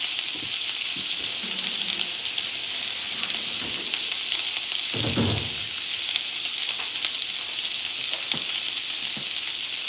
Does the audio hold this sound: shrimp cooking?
yes